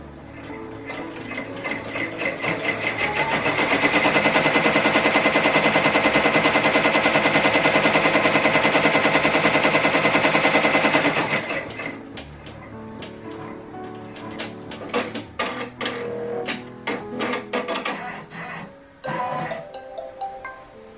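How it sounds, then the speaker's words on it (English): Embroidery machine stitching at close range, a loud rapid mechanical rattle holding steady for several seconds, then easing into irregular shorter bursts of needle chatter. "Embroidery sounds in"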